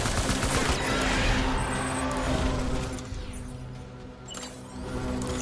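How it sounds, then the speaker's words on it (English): Rapid bursts of assault rifle fire crackle in a Death Stranding firefight, loud and close, with overlapping shots and a brief lull before the volley resumes. "somebody else is shooting at me"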